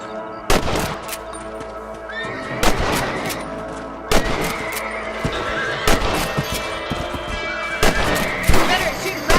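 Rifle shots ring out while hunting rabbits in Red Dead Redemption, several loud sharp cracks spaced a couple of seconds apart, mixed with horse whinnies and voices talking.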